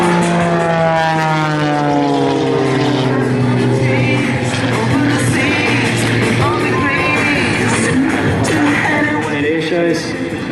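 A light aircraft flying its downwind leg before landing at an air show: a continuous loud propeller-engine drone with a shifting pitch as it passes, mixed with announcer talk over a public address.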